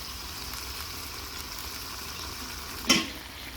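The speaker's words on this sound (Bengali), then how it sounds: "এখন মাংসটা মাঝারি আছে ভালোভাবে ভাজতে থাকবো যেন মশলাটা ভালোভাবে কষে যায়" Spice-coated beef fries in a kadai over a wood-fired clay stove, giving a steady, close sizzle with a single sharp clink of a utensil near the end.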